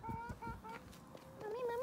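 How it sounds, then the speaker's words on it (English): Chickens cluck steadily nearby outdoors, their tonal calls repeating in short bursts under a voice and background chatter. "Mommy, chicken."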